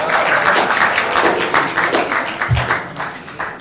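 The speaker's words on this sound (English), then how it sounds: "a round of applause to my sister, who was really helpful this evening as well" Wedding guests at a resort reception clapping together in a dense, steady round of applause that carries through the whole moment.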